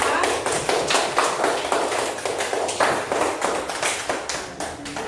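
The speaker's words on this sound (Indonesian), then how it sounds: "Tepuk tangan untuk kelompok 4." A second-grade class at an elementary school claps for a group of classmates, a steady patter of many small hands with uneven rhythm filling the room, close and moderately loud.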